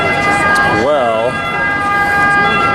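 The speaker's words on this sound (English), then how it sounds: "the siren is some local Roman siren" Local emergency siren in Rome near the Colosseum, a wailing tone that rises and falls around the middle under steady street noise and a crowd talking.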